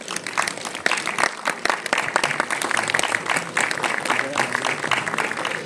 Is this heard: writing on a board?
no